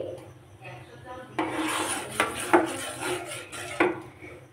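Rice being stirred into milk in a pot, a spoon scraping and clinking against the metal in several close, irregular strokes over a low background hum.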